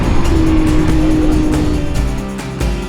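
A Can-Am off-road side-by-side vehicle at a riverside campsite in New South Wales drives past with a loud engine roar, sweeping by close and falling in pitch as it goes.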